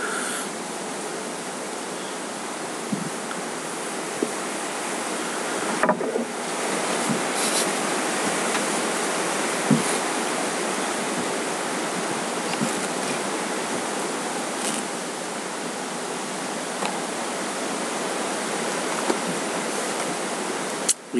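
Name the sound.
wind blowing outdoors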